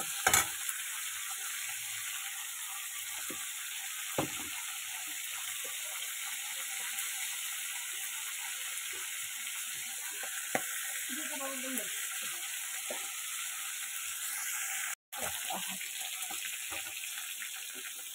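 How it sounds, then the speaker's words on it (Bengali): A fish head fries in oil, giving a steady soft sizzle throughout with occasional light clinks and stirring sounds, and a brief sharp knock near the end. "মাথাটা ভালো করে ভেজে নেব পালং শাকে দেওয়ার জন্য।"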